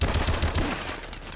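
Rapid repeated shots from an M1 Irons rifle in Advanced Warfare, a quick rhythmic string of reports that fades slightly toward the end.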